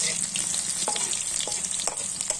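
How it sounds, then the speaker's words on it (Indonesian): Garlic and onion stir-fried in a pan for pak choy with prawns, a dense steady frying hiss with scattered light scrapes and taps of the utensil, close and alone without speech. "Kita goreng dia. Kita tumis sehingga dia naik bawang aroma dia"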